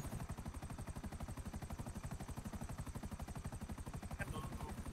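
A helicopter in a video game, its rotor producing a fast, steady thumping pulse that runs loud and continuous throughout, with a faint brief tone near the end.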